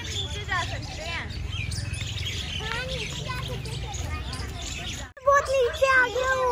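Small birds chirping and tweeting in a park, a busy chorus of short calls running throughout, briefly cut off and then returning close and bright, with someone talking over them.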